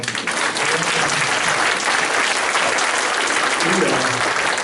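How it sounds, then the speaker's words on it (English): A studio audience breaks into loud, continuous applause, a dense even roar of clapping that fills the whole stretch with faint voices underneath. "I think she needs a huge round of applause."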